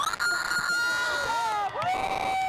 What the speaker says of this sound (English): Everybody is cheering.